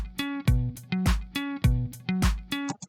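Basic four-on-the-floor drum pattern programmed in FL Studio: punchy kicks on every beat with claps and ticking hi-hats, looping steadily at close range with no talking.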